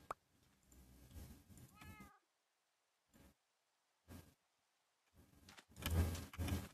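A cat meows in Minecraft, with a few short game-style calls separated by silences and a louder burst at the end, with no talking.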